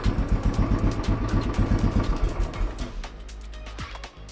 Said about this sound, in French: Je vais arrêter la moto.